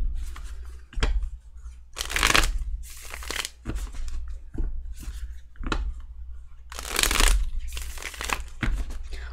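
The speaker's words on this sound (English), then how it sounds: "those are like the best shuffles I've done this entire reading." Crisp bursts of tarot cards being shuffled, several riffles and short flutters in a row, close and fairly loud, with no talking.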